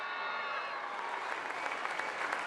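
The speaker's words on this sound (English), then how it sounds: "Let's give him a big round of applause." Crowd applause at an athletics track meet, a steady wash of clapping from spectators in the stands, distant and fairly soft, with a few cheers rising near the end.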